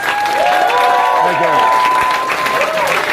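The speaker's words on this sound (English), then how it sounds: "let's give Bob and Linda a round of applause" Audience applause at a grand opening event in a lounge, a steady, continuous wash of clapping lasting the whole stretch, with voices and a tonal hum mixed in underneath.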